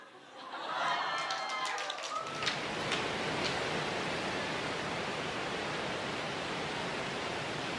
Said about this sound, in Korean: 들으십니까? 이 폭포 소리를